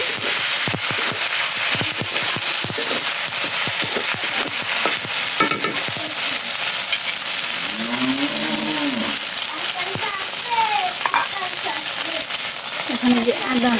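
Chopped tomato hitting hot oil in a pan already seasoned with cinnamon, cardamom, dried chilli, bay leaf and cumin, giving a loud, steady sizzle with stirring clatter and a voice briefly heard.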